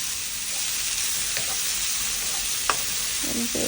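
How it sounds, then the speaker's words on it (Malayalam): Grated beetroot sautés in a pan over a medium flame, giving a steady, close sizzle with a few light scrapes of a spoon against the pan and no talk. "എന്നിട്ട് ഒരു 10 മിനിറ്റ് സോട്ട് ചെയ്യുക."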